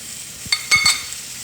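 Butter is added to a hot frying pan with roasting garlic, giving a soft sizzle under a few sharp clinks and taps of a utensil against the pan.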